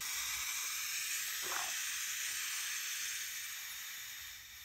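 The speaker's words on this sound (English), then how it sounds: "To test the valve, I attached a hose to the fuel inlet on the carburetor and I'm blowing air into it." Air blown through a hose into the fuel inlet of a cheap Chinese scooter's carburetor makes a steady, faint hiss. It holds level throughout and thins out slightly toward the end.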